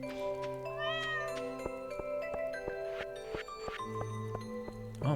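Cartoonish cat meows from the Stardew Valley farming game, several short pitched cries in a row over steady game music, loud and close with no talking.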